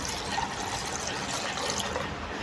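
Water is poured into a bowl to soak hibiscus flowers for a natural hair remedy, making a steady continuous splashing and gushing that stays loud and close for the whole stretch, with no talking.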